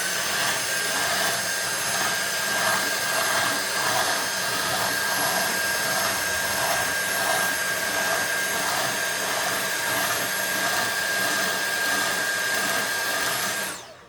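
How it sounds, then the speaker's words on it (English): A small shop vac pulls dust from the teeth of a doublewide crankless drum carder, a loud, steady close-up whine and rush of air that runs unbroken until it cuts off at the end. "You can use a little shop vac like this."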